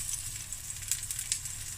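Two thinly sliced shallots sizzling in a pan with cardamom pods and star anise, a faint, steady hiss with small crackles and pops, nobody speaking.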